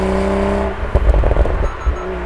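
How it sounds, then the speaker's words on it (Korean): A BMW Z4 M40i with a twin-turbo engine driving along, its exhaust crackling and popping in a burst of irregular pops over a steady engine drone, loud and close. "이렇게 팝콘 소리가 나요"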